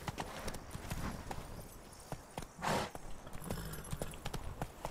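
Roach the horse from the video game The Witcher 3 trots with steady, rhythmic hoof clip-clops at close range, broken once by a brief swelling whoosh.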